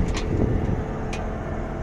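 A pickup truck towing a cart on a farm gives a steady, low engine and road rumble that runs unbroken and moderately loud throughout.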